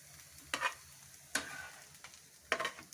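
Potato tikki patties frying in a pan until golden brown, with a low steady sizzle under three sharp, close scraping and clinking bursts as the patties are stirred or turned, no talking.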